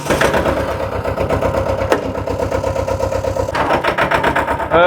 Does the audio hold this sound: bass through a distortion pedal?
no